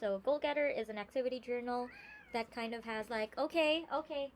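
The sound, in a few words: cat meowing in the background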